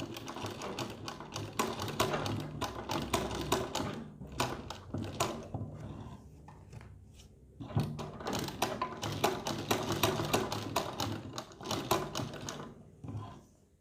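A sewing machine rattles through stitches on a kurti neckline in rapid mechanical bursts, with a short pause in the middle before stitching resumes, close and fairly loud.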